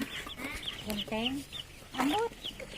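Chicken clucking up close, a few short bursts of clucks and squawks in a barnyard setting, with people talking around it.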